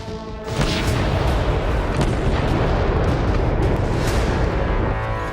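Heavy booming blasts from airstrikes on Hezbollah positions in southern Lebanon, a dense, continuous rumble of explosions lasting throughout, loud and with no voices.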